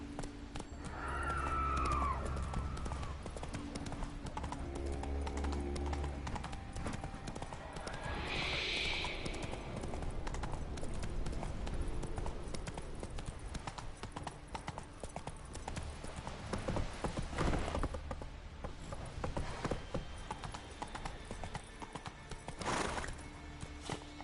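Roach the horse galloping in The Witcher 3, hooves drumming in a steady clip-clop rhythm over a bed of game music, with a brief whinny and a voice calling out early on.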